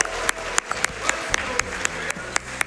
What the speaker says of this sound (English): Can we get an applause for the Square Joker?